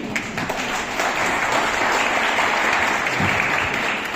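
Sustained audience applause following a double-edged sword fight demonstration at the Royal Armouries Museum, a dense steady wash of many clapping hands filling the whole stretch.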